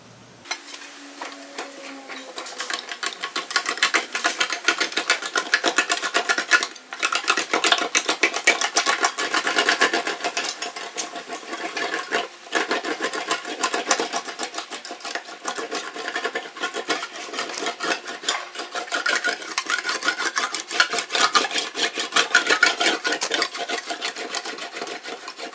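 An English wheel rolls an aluminum Miata hardtop panel with a steady, continuous rasping metallic hiss that fills the whole stretch, close and fairly loud, with brief breaks as the panel shifts direction.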